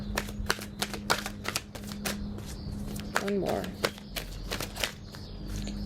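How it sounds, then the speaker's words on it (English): Tarot cards are shuffled in quick, irregular riffling bursts and soft snaps close by, with a voice speaking briefly partway through over a low steady hum. "Last shuffle."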